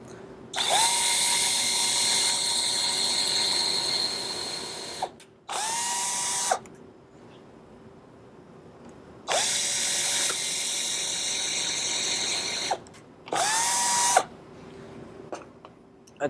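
A power drill bores holes in wood for a homemade bumblebee house, with four loud, close whirring runs: two long and two short, separated by quiet gaps.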